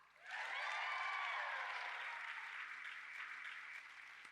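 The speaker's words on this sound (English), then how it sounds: "Another round of applause" A large audience of about 800 people at a live women's sport event applauds, loud sustained clapping swelling quickly and holding for several seconds before slowly tapering.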